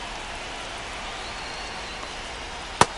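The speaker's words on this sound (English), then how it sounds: "the field's not going to be able to hold up if the rain gets any worse than this" Steady rain hiss falls across the baseball field in MLB The Show 25, a soft even wash with one brief sharp tap near the end.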